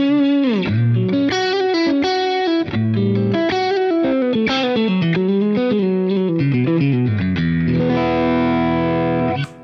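Electric guitar through a Vemuram TSV808 overdrive pedal on a pedalboard, playing a continuous driven riff with bends and a sustained chord at the end, loud and close with no talking.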